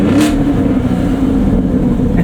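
The exhaust of a Chevrolet Camaro SS 1LE rumbles loud and close in a short burst, a deep, throaty, continuous roar with a slight rise in revs.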